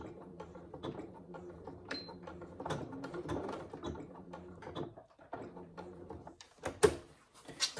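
A sewing machine back stitching on a saddle bag gives short runs of close mechanical whirring and clicking, pausing and restarting with small clunks as the fabric is pivoted.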